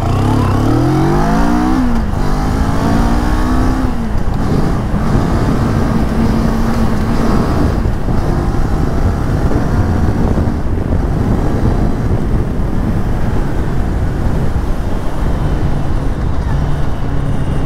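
A 2023 CFMOTO 650 NK roadster motorcycle pulls away from a standing start, its engine note climbing in pitch through the gears under loud, constant wind rush.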